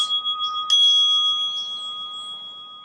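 A meditation bell is struck once during a guided meditation, ringing out a clear, pure tone that sustains and slowly fades in otherwise quiet surroundings.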